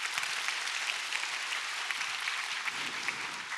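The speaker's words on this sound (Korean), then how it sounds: "멋진 강연 들려주신 최민우 교수님께 다시 한번 큰 박수 부탁드립니다" A lecture audience at a university public science talk applauds in a steady, even wash of many hands clapping, moderately distant and continuous without speech.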